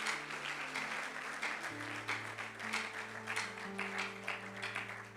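A church congregation claps and cheers together in sustained applause, a dense wash of hand claps over steady held musical tones that shift pitch partway through, with no speech.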